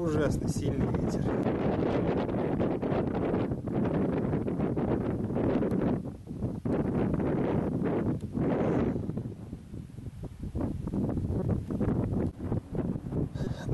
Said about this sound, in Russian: И ужасно сильный ветер.